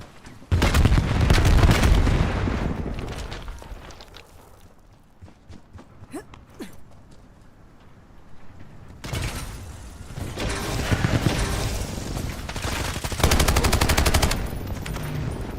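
Video game weapons firing in heavy automatic bursts, loud and close, with a quieter lull in the middle before rapid gunfire returns with booms and mechanical clatter.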